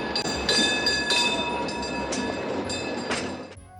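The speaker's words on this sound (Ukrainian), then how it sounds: "Це трамвай" A tram rumbles steadily along the rails with a continuous loud roll and faint metallic squeals and clicks, no voices.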